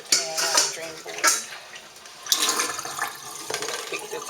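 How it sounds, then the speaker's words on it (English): Water is emptied from a cooking pan into a kitchen sink drain, with splashy bursts and gurgles, light metallic clinks of the pan, and a few irregular pours close by. "Empty that water out"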